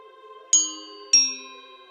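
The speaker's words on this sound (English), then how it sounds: "Let's ring the bell." A doorbell rings at a front door, two clear, bright electronic ding tones about half a second apart, each ringing out and decaying over a faint steady hum.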